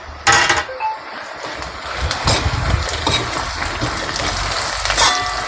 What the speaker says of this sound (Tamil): இந்த வெங்காயம் வரமிளகாவோட எண்ணெயில் நல்லா வதக்கிக்கிடுவோம்.